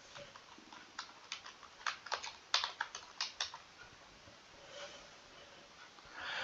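Keys clatter on a computer keyboard in short, uneven bursts as a search term is typed, close and fairly quiet, followed by a softer pause with faint room noise and no talking.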